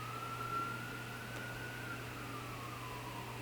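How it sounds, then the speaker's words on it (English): Emergency vehicle siren passing outdoors, heard faintly from inside as a single steady tone that rises slightly and then slowly falls away, over a constant low electrical hum. "we've got some sirens."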